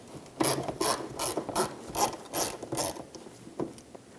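A ratchet clicks in quick bursts of sharp, close pawl ticks while backing out a 10mm bumper cover screw on a 2012-2017 Toyota Camry, with several rhythmic strokes in a row and no talking.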